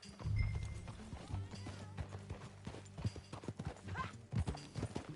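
Hooves clip-clop in a steady rhythm on horseback in the Red Dead Redemption 2 world, mixed with game music and a brief whinny, with no talk over it.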